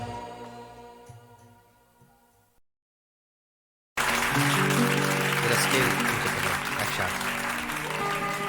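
Dense, loud applause from a live ghazal concert audience erupts after a fading musical ending and a brief silence, sustained clapping filling the hall.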